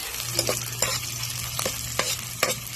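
Chopped onion sizzles steadily in a pan for tinola with chicken neck, with a utensil scraping and stirring in several distinct strokes over the frying hiss.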